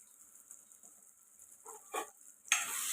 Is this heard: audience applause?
no